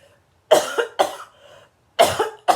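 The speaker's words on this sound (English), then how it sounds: "So water helps when I am coughing." Three or four sharp, harsh coughs in quick bursts, close and loud, with short pauses between them and no talking.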